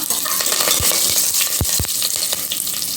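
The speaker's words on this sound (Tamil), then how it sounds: "கொஞ்சம் கருவேப்பிலை சேர்த்து ஒரு தடவை கலந்து விட்டுக்கலாம்" Red chilli and curry leaves sizzle as they are stirred in a hot pan, giving a steady frying hiss broken by a few soft scrapes and knocks of the spoon.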